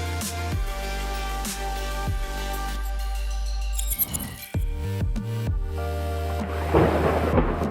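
A heavy thunderstorm with a long, loud rolling rumble of thunder over steady rain, a sharp crack and clatter midway, then the rain and storm noise swelling again toward the end, with no voices.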